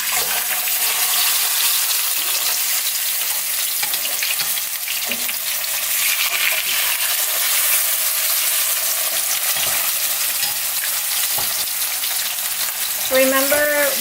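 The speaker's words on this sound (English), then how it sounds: "we're gonna add in our pork chop" Pork chop frying in plenty of hot oil in a pan, a continuous dense sizzle and crackle heard close and loud throughout, with faint utensil clinks.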